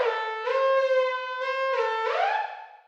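A sustained synthesizer tone with sine folding, light distortion, reverb and EQ, holding a rich harmonic pitch that shifts and bends upward near the end before fading.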